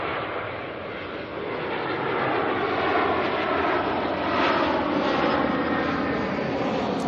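A Jetstar airliner arriving at Auckland Airport from Queenstown makes a steady, far-off jet roar that swells gently over seven seconds.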